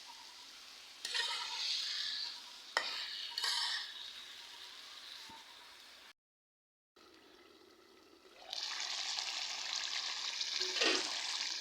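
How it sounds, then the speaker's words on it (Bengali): Marinated meat is stir-fried with browned onions in a pan, giving soft sizzling broken by scraping stirs, a brief gap, then a louder, steady hiss of frying. "মাংস আমি ভালোভাবে কষিয়ে নিব।"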